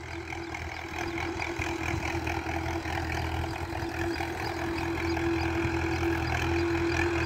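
An old tractor, about 45 years old and leaking oil, running with a steady low diesel rumble and a sustained droning hum, growing slightly louder toward the end, with no talk over it.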